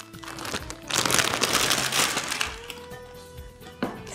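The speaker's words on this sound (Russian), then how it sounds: "Я беру пакетик" A plastic bag crinkles and rustles close up as dried plums are packed into it, a dense stretch of crackling handling noise that settles into softer rustles before a final sharp crinkle.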